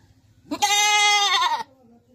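A goat gives one loud, close, quavering bleat lasting about a second, standing alone against near silence.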